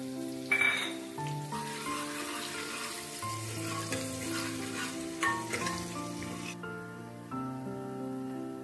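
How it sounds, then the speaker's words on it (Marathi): Finely chopped onion with green chili fries in a pan at home, a soft continuous sizzle with occasional stirring scrapes under steady background music. "तर यात टाकायचं आहे एक मध्यम आकाराचा कांदा बारीक कट केलेला। कांद्याला पण सोनेरी रंग येईपर्यंत परतवून घ्यायचा आहे।"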